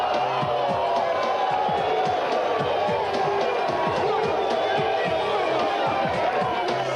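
A crowd cheers and roars loudly and continuously after a 360 slam dunk at an Oakland basketball event, a dense wash of voices with scattered shouts and bursts throughout.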